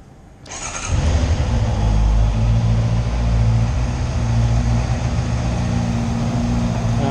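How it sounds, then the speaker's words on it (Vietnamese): A 2018 Honda CB650F motorcycle engine cranks and fires up after a quiet moment, then settles into a loud, steady idle with a deep continuous rumble, heard alone without talk. "Rồi, nổ máy cái đã."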